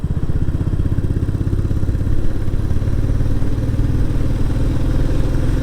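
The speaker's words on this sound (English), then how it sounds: "just use a bit of power and hear that blub blub blub blub blub blub blub on the engine" A Royal Enfield Classic 350 single-cylinder engine pulls under power out of a tight country bend, a loud, close, steady thumping beat that runs on without a break.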